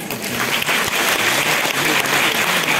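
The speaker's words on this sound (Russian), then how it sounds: "Спасибо, что зааплодировали." Steady applause from a concert audience in a hall, dense and loud clapping that holds evenly throughout without voices over it.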